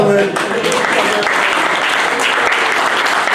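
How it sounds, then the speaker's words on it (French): Church congregation breaking into loud, dense applause, a continuous wash of clapping that swells after a short spoken lead-in and carries on steadily. "On peut acclamer le Seigneur."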